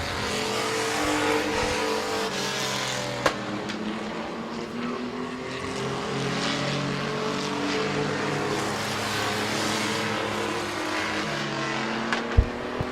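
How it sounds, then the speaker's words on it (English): Race cars at Midvale Speedway run the final lap, their engines roaring steadily with pitch sweeps as cars pass and rev through the turns, loud and continuous for the whole stretch. "it's going to be white flag. 1 lap to go for the 82 of Leinard."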